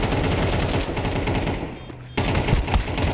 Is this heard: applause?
no